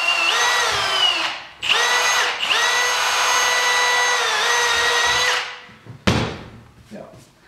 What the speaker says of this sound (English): So with the plastic, like I said, good sharp drill bit and just nice, slow and easy with pressure.